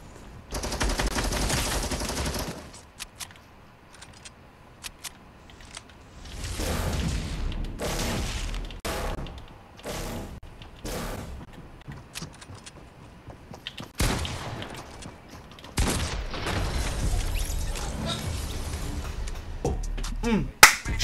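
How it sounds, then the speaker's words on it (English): Shotgun blasts in the video game Fortnite, loud booming shots in scattered bursts and clusters, some in rapid succession, separated by quieter gaps of game ambience. "Shotgun! Shotgun! Shotgun!"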